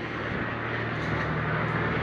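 Airplane droning overhead above the Nazca Lines desert, a steady low engine hum at moderate distance, continuous with no speech.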